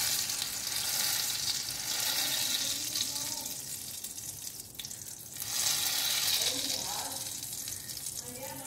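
Eggplant omelette (tortang talong) frying in oil in a pan, a steady broadband sizzle running throughout, loud and close, easing briefly around the middle before picking up again.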